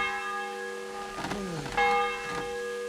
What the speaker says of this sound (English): somebody was ringing that bell prior.